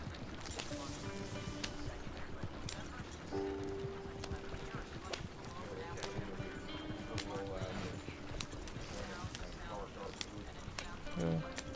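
Horse hooves clip-clop steadily in Red Dead Redemption 2 while the horse glitches, the rhythmic beats running under game sounds and someone talking throughout.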